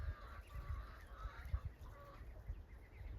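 A hen clucks softly and repeatedly at a farmyard coop after rain, faint and somewhat distant, with low background rumble.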